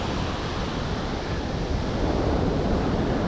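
Ocean surf breaks on a beach on a foggy morning, a continuous broad roar of waves washing in and pulling back, close and fairly loud, with no talking.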